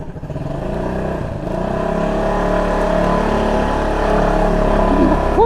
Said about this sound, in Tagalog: Oh, ingay-ingay ng motor.